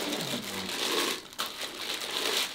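Plastic cover of a Philips HR3655 blender being handled, giving steady crinkling and rustling up close with a brief knock midway, no talking.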